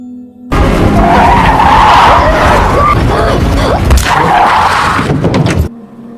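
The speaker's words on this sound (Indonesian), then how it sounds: "karena Peter menghindari bangkai rusa, ia banting setir dan kepala Charlie menghantam tiang listrik" A car swerves hard and skids in a horror film scene, a loud close tire squeal and scraping roar lasting about five seconds over engine noise, then cutting off sharply.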